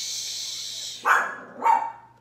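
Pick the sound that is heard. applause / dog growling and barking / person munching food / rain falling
dog growling and barking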